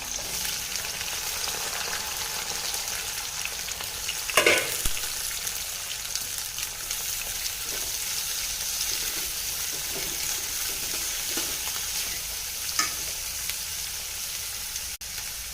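Chopped onions fry with cumin in hot oil, a steady soft sizzle running throughout with occasional clinks and scraping stirs, and one louder clatter partway through, with no voices.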